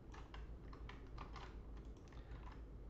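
Steady run of keystrokes on a computer keyboard while a wallet name is typed in, close and clear, continuous light clicking for about three seconds with no talk.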